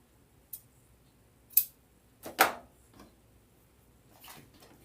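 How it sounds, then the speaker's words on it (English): A few sharp scissor snips cutting fabric sound close by, spaced irregularly, with the loudest cuts grouped together in an otherwise quiet room. "Might as well get some scissors that can cut."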